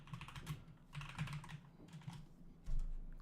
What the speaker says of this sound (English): You type in a tweet